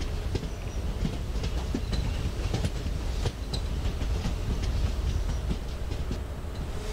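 The 16235 Tuticorin to Mysore Express in Microsoft Train Simulator rolls on its rails toward Kovilpatti station with a loud, continuous rumble and a steady clickety-clack of wheels over the joints. Nobody talks.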